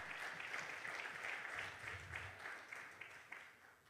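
A church congregation applauds during a sermon, a faint, steady patter of clapping that fades slightly toward the end.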